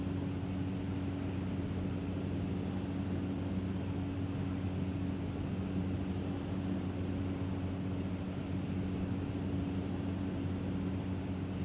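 An aircraft in the X-Plane flight simulator giving off a steady, unbroken engine drone with a constant hum and hiss, moderately quiet and without any pauses or voices.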